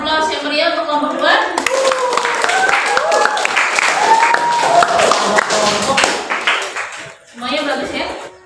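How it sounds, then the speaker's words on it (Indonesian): Applause for a class presentation group, scattered clapping rising under a speaking voice and continuing as a moderate burst before tapering off, with a few claps returning at the end. "Kita beri aplaus yang meriah untuk kelompok 2."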